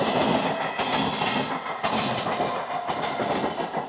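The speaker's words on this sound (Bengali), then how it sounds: "ট্রেন এখন দমদম স্টেশনে ঢুকছে" A train pulls into Dum Dum station, its wheels clattering steadily over the rails with a broad, continuous rumble and rhythmic clicks, heard up close and loud with no talking.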